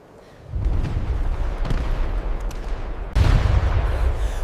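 A World War One battle: dense, continuous rumbling gunfire and explosions, loud and close, with a sharp surge of heavier blasts near the end and no voices.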